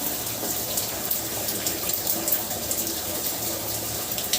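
Cold water runs steadily from a tap during an outdoor bath, a continuous close hiss and splash with no pauses.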